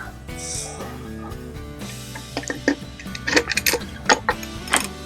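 A Beeman R9 air rifle action settling into its stock gives a few sharp, close metallic clicks and knocks in the second half, over a steady low mechanical hum.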